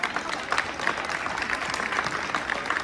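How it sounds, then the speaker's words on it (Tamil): A hall audience applauds parents at a Tamil school Pongal celebration after a stage play, giving steady, dense clapping throughout with no clear pauses. "எல்லா பெற்றோர்களுக்கும் ஒரு பெரிய கரகோஷம் உங்க எல்லாத்துக்கும்"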